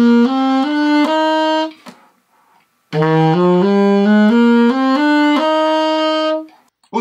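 A saxophone plays a series of swung eighth notes, a clear run of bright sustained notes, pausing briefly and then continuing in a lilting long-short rhythm.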